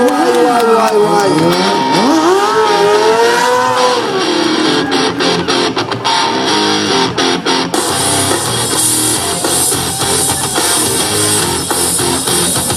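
A stunt motorcycle at a 2018 stunt show in Bouchain revs hard on the track, its engine loud and close with rising and falling pitch sweeps, while commentary and crowd noise run underneath.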